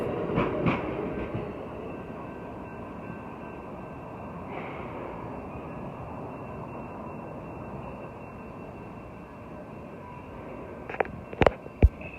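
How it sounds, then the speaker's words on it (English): Amtrak Coast Starlight train 11 pulls out southbound on track 1 at Jack London Square in Oakland, California, a steady rumbling roll of railcars with a few sharp clanks and squeals near the end. "Amtrak Coast Starlight, train number 11, southbound Coast Starlight, heading southbound on track 1 here in Oakland, California at Jack London Square"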